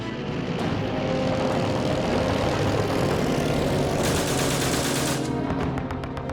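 SE5 First World War biplane in flight, its engine a dense continuous roar with a rapid rattling pulse, loud and steady throughout with no voices.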